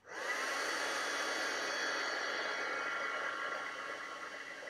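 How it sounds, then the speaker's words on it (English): Heat gun blowing steadily over a card for embossing, a continuous airy whooshing roar that starts abruptly and holds constant, close and moderately loud. "Let me see if I can get my heat gun to, it does, it reaches"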